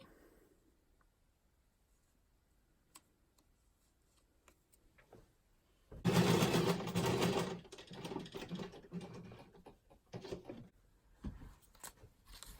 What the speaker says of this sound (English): I think I might just sew that on now.